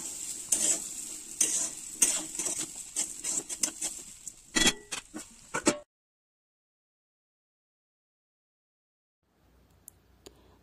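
Semolina upma, a spiced jhal suji with salt and sugar, is stirred in a pan. Brisk, close scraping and clattering strokes last about six seconds, then silence falls except for a few faint taps near the end.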